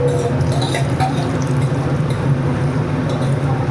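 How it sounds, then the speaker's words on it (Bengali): Water left from soaking paneer is poured into a cooking pot, giving a close, continuous splashing and dribbling stream against a steady background hum, with no talking. "আর পনিরগুলো যে ভিজিয়ে রেখেছিলাম এই জলটাও দিয়ে দিব।"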